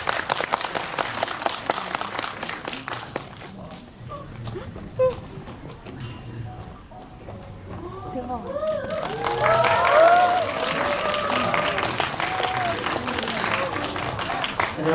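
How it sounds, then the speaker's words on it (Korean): An audience at a film stage greeting for the Korean film Svaha claps and cheers as cast and director arrive, scattered at first, quieter midway, then swelling into fuller applause with crowd noise. "큰 박수로 맞아주세요"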